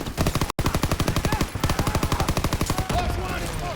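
Rapid sustained automatic suppressive gunfire in the World War II shooter game Call of Duty WWII, loud and continuous with a brief gap, under faint background voices.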